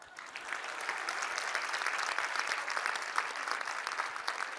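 Audience clapping steadily and evenly, a dense patter of many hands that stays at one level throughout and sounds fairly distant and soft.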